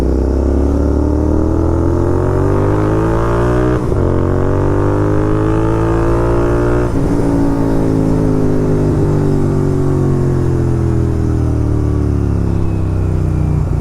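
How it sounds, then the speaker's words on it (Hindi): A Royal Enfield GT 650 with a Red Rooster exhaust is ridden with a steady, close, loud twin-cylinder drone that rises through the gears, with short dips at the shifts and no talking. "अब हम ड्राइव कर रहे हैं अपनी GT 650 with red rooster exhaust"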